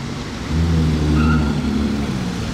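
At a Ferrari gathering, a nearby Ferrari's engine drones steadily with a low, smooth hum that swells slightly in the middle as the car moves past.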